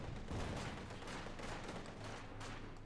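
Maxim and MG42 machine guns fire in a Company of Heroes 2 battle, a continuous rattling burst of rapid shots with heavy low rumble, steady and dense for a few seconds, with no voices.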